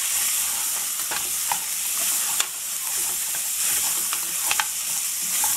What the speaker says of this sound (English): Let's fry this ginger garlic, onions and paya on a sim flame.